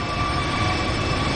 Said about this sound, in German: Irgendein Flugzeug startet gerade ab.